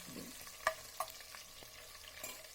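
Food sautéing in a pan while a simple evening snack of poha is cooked, a quiet low sizzle under a few light metallic taps and scrapes of a spoon, faint and close.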